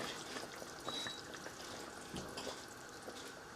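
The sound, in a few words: hot water poured over braised pork belly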